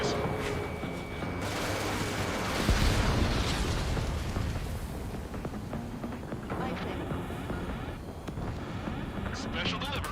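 A missile launches and explodes in the jet combat game Ace Combat 7, with rumbling booms and bursts under continuous engine roar, game music and radio chatter.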